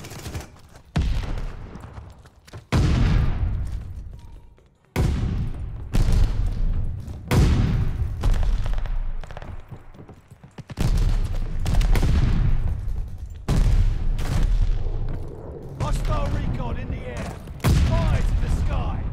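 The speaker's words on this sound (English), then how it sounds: "Allied airstrike coming in hot." An allied airstrike bombing run in a video game, heavy booming blasts landing one after another in separate bursts, each one trailing off in a rumble, with a voice calling out now and then between them.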